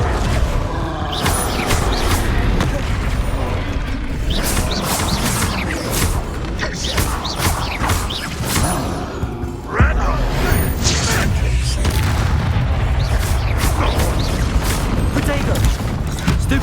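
Confringo fire spells explode over and over during a Hogwarts Legacy duel, loud repeated booms mixed with crashing, clattering impacts and creaking mechanical noise in a dense, continuous barrage.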